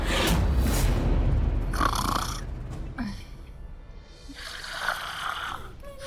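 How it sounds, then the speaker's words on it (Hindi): Person snoring while asleep indoors behind a locked door, a few loud rasping breaths in a slow rhythm, close and prominent with a steady background hum. "फिर ये खर्राटे की आवाज कहाँ से आ रही है?"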